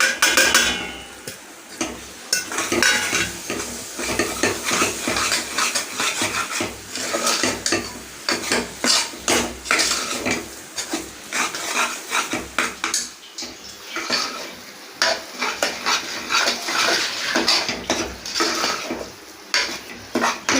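Onions and spice powder sauté in a pan while being stirred, with frequent loud scraping and clinking of a utensil against the metal over a soft sizzle, in bursts throughout.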